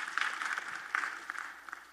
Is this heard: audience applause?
yes